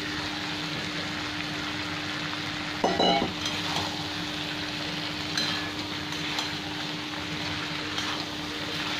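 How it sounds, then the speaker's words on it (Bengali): Potato and cauliflower frying in a pan alongside already-fried prawns for a Bengali curry, a steady close sizzle with a brief clatter of pieces dropping in near the start. "এখানে আলু আর ফুলকপিটা দিয়ে দিলাম"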